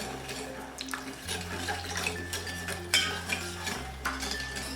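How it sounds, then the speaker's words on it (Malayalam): Sugar and water stirred in a metal pan, with repeated scraping and clinking of a utensil against the pan over liquid sloshing and a low steady hum. "ഇതിലേക്ക് വെള്ളം ഒഴിച്ച് നല്ലതുപോലെ ഇളക്കി കൊടുക്കാം."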